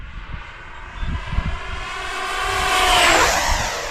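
A Freewing Vulcan RC model jet with an electric ducted fan flies past, its whooshing whine swelling steadily louder and rising toward a close pass, with a sweeping Doppler shift in pitch and no voices.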